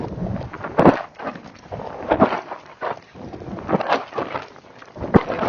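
Wind buffets the microphone while someone rides an Icelandic horse cross at a brisk gait. Loud, gusty rumbling blasts come in uneven surges throughout.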